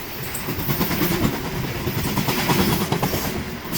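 A Norfolk Southern freight train of grain hoppers rolls past near a mill in Fostoria, Ohio, a loud, dense, continuous rumble with rattling wheels and steady clatter, close by and without voices.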